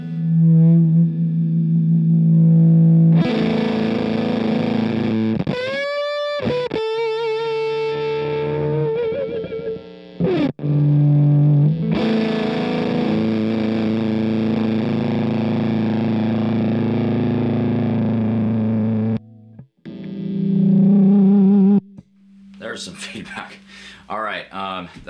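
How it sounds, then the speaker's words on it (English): A Gretsch Electromatic G5422TG hollow body electric guitar plays through a JHS Crayon fuzz pedal, giving sustained distorted chords and single notes, loud and close, with a few short breaks and some string noise. "I'm turning on my JHS Crayon. It's kind of a fuzz sound"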